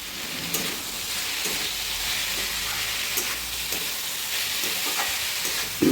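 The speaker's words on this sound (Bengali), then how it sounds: "আদাটা দিয়ে দেবো তার একসঙ্গে ভালো করে মিশিয়ে নেব" Ginger stirred and frying in a pan while cooking a vegetarian banana-flower dish, a steady hiss of sizzling oil broken by soft periodic scrapes of a spoon, close and moderately quiet.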